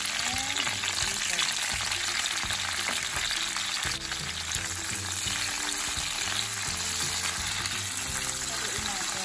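Olive and caper pasta sauce sizzles in a pan while being stirred, a steady crackling fry with scraping and clinks of the utensil throughout.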